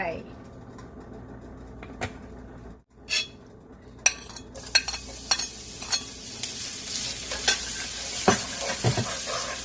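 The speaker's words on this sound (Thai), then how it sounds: "เปิดเตาแล้วนะคะ ใส่น้ำมันลงไป" Oil sizzles steadily in a very hot wok, with scattered metallic clinks and scrapes of a utensil stirring against it.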